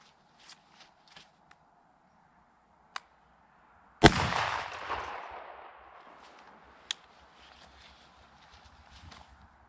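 A Winchester SX4 semi-automatic shotgun fires a single 3-inch high-brass number 2 shell outdoors: one loud, sharp blast with a lingering rumbling echo, preceded and followed by faint handling clicks and no talking.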